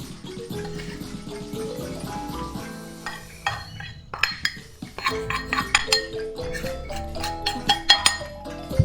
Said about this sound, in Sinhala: මේ ටික දැන් හොඳින් මිශ්‍ර කරගන්න ඕන.